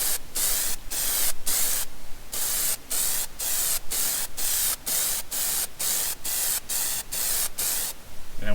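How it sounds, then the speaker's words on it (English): Black Plasti Dip sprayed from an aerosol can onto a Chevrolet emblem in light coats: about fifteen short, close hissing bursts in a steady rhythm, separated by brief pauses, with no talking. "We're going to black out the Chevrolet emblem there with some good old black Plasti Dip."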